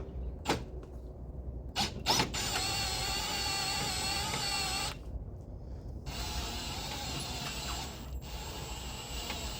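Socket ratchet on a 3/8 extension working under a Y62 Patrol during a tyre and rear bar fit, giving sustained buzzing ratchet clicks in long runs broken by brief pauses and sharp knocks, close and steady, with no talk.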